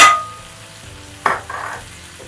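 Onions tipped into a pot of frying goat meat for goat curry, giving a sharp sizzle that fades, then a couple of stirring scrapes and renewed sizzling, close and fairly loud.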